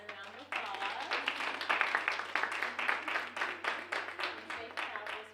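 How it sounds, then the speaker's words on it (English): Audience applause in a church, St. Julia AME Zion Church: sustained rippling clapping from a full room that starts abruptly, holds steady for several seconds, then thins toward the end. "Let's give Dr. Ciceron another round of applause."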